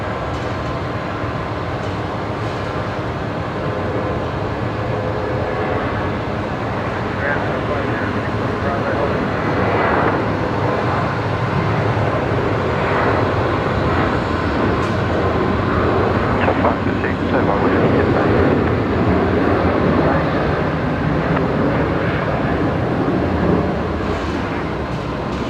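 An airliner at Brisbane Airport lines up on runway 19 left, heard as a steady distant engine rumble that builds slightly, under continuous radio chatter and talk.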